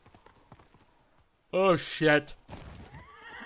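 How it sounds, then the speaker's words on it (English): Horse in the video game Ghost of Tsushima neighs loudly in two close whinnies, followed by hoof clopping, with someone talking quietly before and briefly over it. "Good horse."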